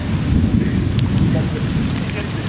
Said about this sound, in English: we got caught in a thunderstorm